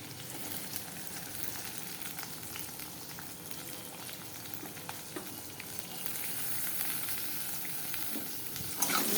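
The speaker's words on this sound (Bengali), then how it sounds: "এখন আমি কুচানো পেঁয়াজটা দিয়ে দেবো।" Chopped onion fries in a karahi with ghee, garlic and whole spices, a quiet continuous sizzle with faint stirring taps that swells slightly louder toward the end, no voices present.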